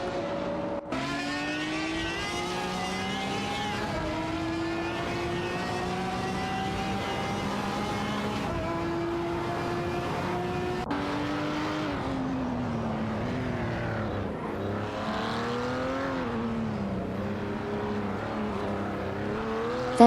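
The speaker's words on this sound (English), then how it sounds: "Racing car dashing away." Race car engine in an AI-driven racing series roaring away at sustained high revs, a steady loud whine climbing through gear changes with no talk over it.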